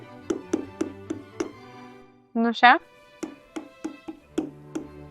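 A Dyson device's nozzle is tapped in a quick series of light knocks, about five, then a voice speaks briefly, and more even taps follow, close and clear.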